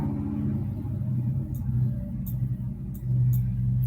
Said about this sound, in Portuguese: Desculpa o barulho da moto aqui